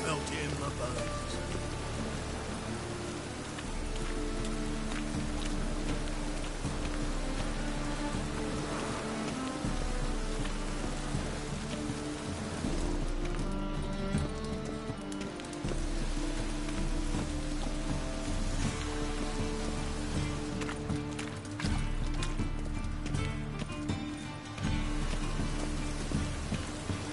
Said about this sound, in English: Rain was coming. Felt it in my bones.